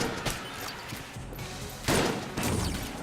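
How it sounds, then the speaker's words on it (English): Shotgun blasts in the video game Enter the Gungeon, a few loud bursty shots with crashing noise spaced across a few seconds over busy game sounds. "I love this shotgun"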